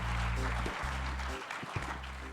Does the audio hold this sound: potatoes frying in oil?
no